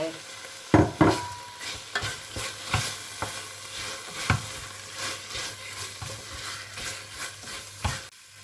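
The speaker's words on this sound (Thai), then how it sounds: "ผัดไปเรื่อย ๆ ให้หมูสุกนิดหน่อย" Pork belly stir-fried with curry paste for a Thai red curry with bamboo shoots, a steady sizzle with repeated scraping and stirring strokes of the spatula in the pan, close and continuous with no talking.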